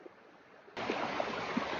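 A waterfall and stream rush with a steady broadband hiss that jumps suddenly from faint to loud partway through, then stays constant with no talk.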